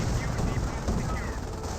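Battle gunfire in the World War II strategy game Company of Heroes, during a Panzer Elite match: dense, loud bursts of rapid shots crackle continuously over a short stretch.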